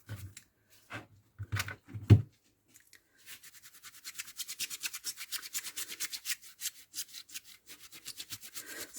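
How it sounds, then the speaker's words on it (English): Wiping Staz-on ink off with a wet wipe makes a few scattered soft dabs, then a steady run of quick, rhythmic rubbing strokes, close and quiet. "And then I rub it with a wet one"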